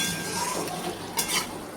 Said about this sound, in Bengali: ভাজা করে রাখা মাছগুলো দিয়ে দেবো, দিয়ে ভালো করে একটু কষবো।